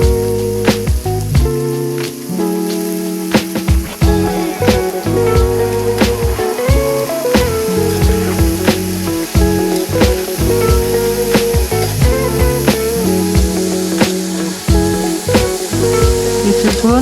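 Vegetables frying in a pan with fried onion, salt and turmeric, a loud continuous sizzle broken by stirring clatters and sharp spatula clicks throughout.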